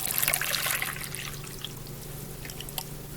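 Thick batter poured into a mixing bowl, a soft, steady trickling flow close by, fading slightly after the first second and continuing quietly with small splashy ticks.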